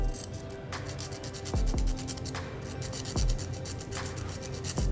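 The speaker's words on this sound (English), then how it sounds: "some pieces are a little too big to fit in certain places, and you will have to sand it down just a little bit" A small piece of a ROKR owl clock wooden model being sanded with sandpaper: quiet, close, rhythmic rubbing strokes repeated at an even pace, with a few soft knocks and no voices.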